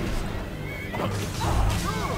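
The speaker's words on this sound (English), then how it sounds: "There's my horse." A horse whinnies briefly in the video game Skyrim, its call rising over a steady wash of game background noise, with a low rumble in the middle.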